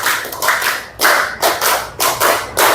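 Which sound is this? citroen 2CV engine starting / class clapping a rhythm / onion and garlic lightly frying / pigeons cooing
class clapping a rhythm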